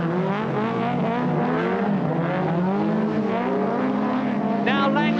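Rallycross cars race and slide up a hill at the 1985 British Rallycross Grand Prix, a continuous engine roar running beneath a commentator's steady talk.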